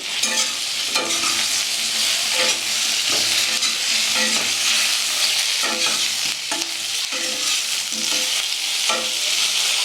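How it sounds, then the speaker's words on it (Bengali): Cauliflower fries in mustard oil in a new wok, a constant loud sizzle broken by repeated scraping stirs at an uneven rhythm, with no voices. "ফুলকপিগুলো ভাজা হয়ে গিয়েছে"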